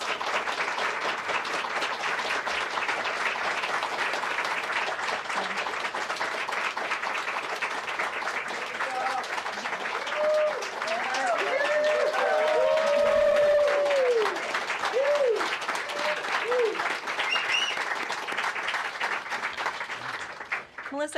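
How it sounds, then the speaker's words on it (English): A large crowd in the White House press room gives a long, sustained round of applause for a retiring photojournalist, thick continuous clapping with cheers and a few whoops rising midway, fading near the end. "You have the largest round of applause I've ever heard in this room."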